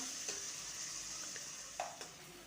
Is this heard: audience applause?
no